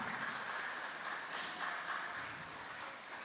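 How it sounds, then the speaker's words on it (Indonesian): Audience applause welcoming Ibu Maya Sitohang at a Batak tortor and ulos workshop, a steady, moderately distant wash of many hands clapping continuously. "Kita berikan tepuk tangan kepada Ibu Maya Sitohang."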